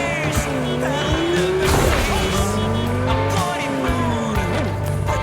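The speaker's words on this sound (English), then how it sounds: "Yep, handbrake turn." A car's tires squeal through a handbrake turn in the video game Cyberpunk 2077, a loud, sustained screech over a steady engine roar that keeps going without a break.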